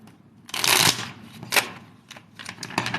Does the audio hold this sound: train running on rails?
no